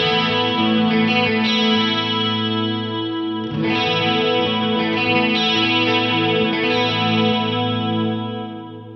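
An electric guitar played through a delay pedal in 12-bit mode with modulation rings out in sustained, shimmering chords with warbling echo tails. A brief dip occurs midway, then the chords swell again before fading at the end.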